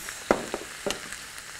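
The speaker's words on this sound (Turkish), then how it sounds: "kabuklarını soymadan doğradığım domateslerimi ekliyorum" Chopped unpeeled tomatoes dropped into a frying pan, giving a few faint, brief sizzles and soft taps against quiet background noise.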